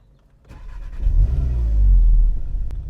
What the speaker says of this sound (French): on va voir déjà le bruit qu'elle fait au cold start